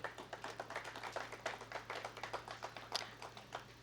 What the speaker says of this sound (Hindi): जोरदार तालियों के साथ स्वागत करिए, शुभकामनाएं दीजिए।